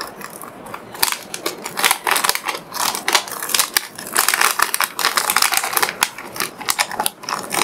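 Powdered photographic chemical poured from a resealable sealed plastic bag, giving a dense, crackling rustle of dry grains and crinkling plastic that runs steadily and close up with no talking.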